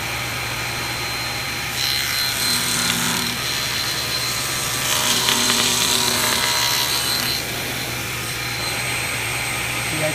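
A wooden safe door being trimmed at the edges with a power tool, a loud steady grinding whine that surges in two longer passes over a constant motor hum, with no talking.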